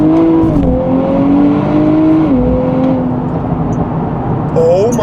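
2024 Nissan Z NISMO engine droning loud and close from inside the cabin while driving, pitch stepping down through an automatic downshift, then crackling exhaust burbles and a rising rev at the end.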